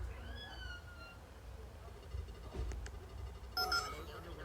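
A cat meows a few times, faint and somewhat distant, over low background noise, with brief electronic beeps near the end and people talking.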